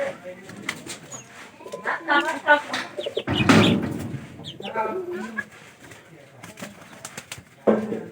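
Pigeons cooing at close range, soft throaty coos scattered through the clip with a person talking over them.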